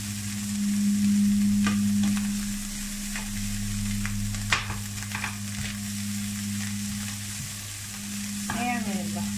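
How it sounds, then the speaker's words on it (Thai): Peas and carrots frying in oil in a pan for Thai shrimp-paste fried rice, a steady close sizzle with a few soft stirring clinks and scrapes throughout, no voices. "ใส่ถั่วแครอทลงไปก่อนให้เขานิ่มนิด"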